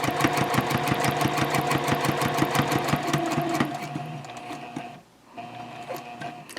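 A sewing machine fitted with a regular presser foot stitches around the box of a fabric zipper pouch, a fast even mechanical rattle that slows, pauses briefly, then resumes more unevenly.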